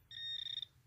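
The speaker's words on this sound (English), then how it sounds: "It's ringing up like it might be copper, and it's gonna be too deep for this to read." A metal detector sweeping a backyard dig in Lincoln, Michigan gives a single bright, steady beep that flags possible deep copper, then breaks into a short warble, clear and alone.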